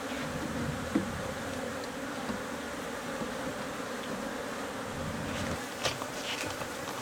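A swarm of Africanized honey bees buzzes in a dense, continuous drone, close and steady with occasional brief knocks and rustles.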